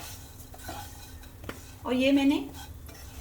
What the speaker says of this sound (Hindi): तेल हमारा गर्म हो चुका है, इसमें डाल देंगे सेवैयाँ।